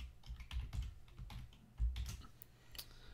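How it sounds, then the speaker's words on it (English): A password being typed on a computer keyboard to unlock a crypto wallet, heard as a quick run of close, light key clicks in an uneven rhythm with no talk. "So I'll just type in my password here."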